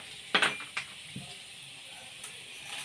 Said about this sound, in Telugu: వేరుశనగపప్పు ఇలా వేగుతుంది కదా